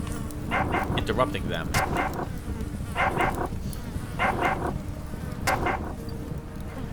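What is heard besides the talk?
dogs fighting in a pit in the video game Underrail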